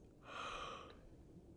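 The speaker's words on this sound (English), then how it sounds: "Wasn't aware that was how you vocalized a yawn" A character in The Suicide of Rachel Foster video game lets out a breathy, drawn-out yawn, a single soft exhale close by that fades after about half a second, with no talk.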